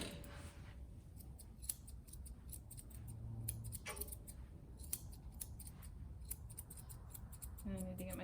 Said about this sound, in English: I need to get my scissors sharpened.